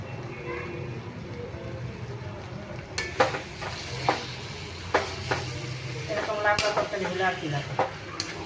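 Ghee sizzles in a pan while khichuri of Gobindobhog rice cooks, a steady close frying hiss with several sharp stirring clinks and scrapes of a utensil against the pot.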